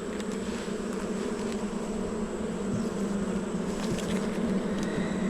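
A dense, steady drone of many bees buzzing close by around their hive, constant and unbroken throughout with no voices.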